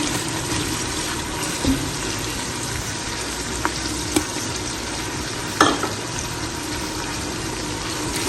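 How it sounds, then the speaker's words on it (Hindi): Steady close sizzling of ginger and garlic frying in a hot pan, with a few brief clicks and stirring scrapes over the constant crackle. "अदरक लहसुन को फ्राई कर लेते हैं"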